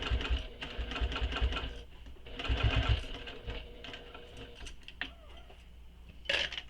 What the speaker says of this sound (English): I'm almost halfway through top stitching.